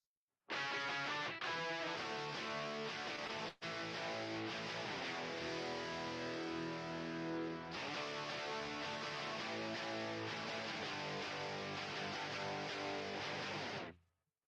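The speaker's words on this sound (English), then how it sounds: "So I added like a higher gain guitar to the chorus." Layered distorted electric guitars, single-coil and humbucker, one higher gain, play dense, sustained chorus chords together, a thick wall of sound with one brief break before continuing.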